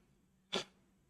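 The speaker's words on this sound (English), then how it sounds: "I don't like sneezing." A single short, sharp sneeze bursts out once in a quiet room and fades quickly.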